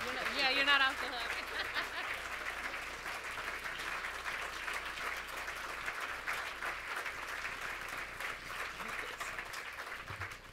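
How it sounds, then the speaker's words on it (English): An audience at a justice conference keynote address claps in sustained, dense applause that holds steady for about ten seconds, with a voice briefly audible at the start. "Give him a real round of applause."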